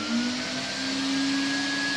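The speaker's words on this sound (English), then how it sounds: "Vacuum cleaner on." A vacuum cleaner runs steadily during repair work on a Bechstein piano, a constant close whine with a low hum, unbroken for the whole stretch.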